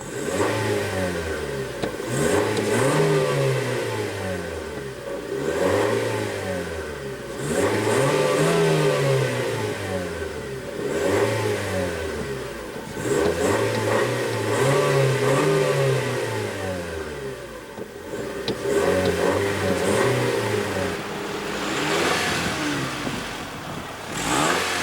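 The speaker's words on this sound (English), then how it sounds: "And let's go ahead and rev it up." A 2001 Honda Civic coupe's 1.7 L four-cylinder engine is revved repeatedly while stationary, rising and falling in about five long, loud sweeps with a steady idle between them, close by and with no talking.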